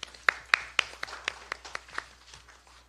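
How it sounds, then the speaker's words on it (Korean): A handful of sparse, fairly faint hand claps from a small gathering at a Democratic Party committee meeting, welcoming the committee chair and members, quickly thinning out to nothing. "다시 한번 위원장님과 위원 여러분께 격려의 박수 부탁드립니다"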